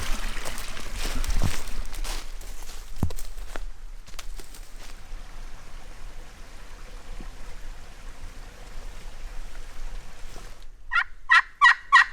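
A wild turkey gobbles on public land during a hunt, a rapid burst of several loud, rattling gobbles near the end, after a long stretch of quiet outdoor rustling and footsteps.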